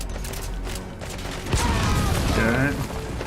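Gunfire and a grenade blast in Metal Gear Solid V, a burst of shots followed by a heavy close explosion, with a voice speaking over the action.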